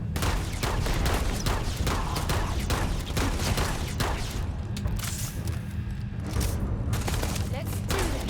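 Rapid bursts of gunfire from the space game Starfield crackle in uneven volleys during combat, loud and close, with a quieter stretch midway before more shots resume.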